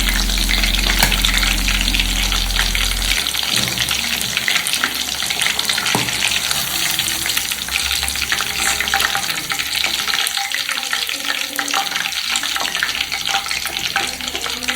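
Chicken kebab pieces fry in oil over a medium flame with a steady, loud sizzle and crackle, village-style, a few scraping stirs near the start and no talk.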